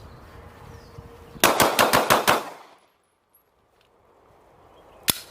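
Six rapid, evenly spaced pistol shots ring out in a quick burst from a compact carry handgun fired on a range in a timed speed drill. They are loud and close, followed by quiet and one more sharp click-like crack.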